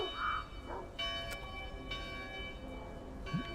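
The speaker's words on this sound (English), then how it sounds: "Church bells ringing." Church bells ring out in a small town in the truck-driving game SnowRunner, set in Michigan's Black River area: sustained, overlapping metallic peals at moderate distance over a low engine rumble, with fresh strikes roughly every second.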